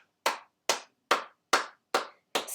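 Six sharp, evenly spaced hand claps from children playing a Spaceman Says game, each crisp and close with short silent gaps between, no voices.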